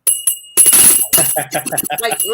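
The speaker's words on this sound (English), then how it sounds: "oh, I do have a bell" A small hand bell rings with a bright, lingering metallic tone, close by, while a person talks over it.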